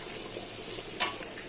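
Bitter gourd and pumpkin fry in a pan with a soft, steady sizzle and a few light stirring scrapes, close and alone with no talk.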